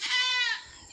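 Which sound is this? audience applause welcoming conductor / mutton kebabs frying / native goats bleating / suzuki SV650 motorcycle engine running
native goats bleating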